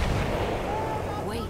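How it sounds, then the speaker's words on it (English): A Battlefield 1 artillery barrage booms in a steady, dense roar of distant cannon fire with a faint whistle toward the end. "Wait for the enemy artillery barrage to stop firing."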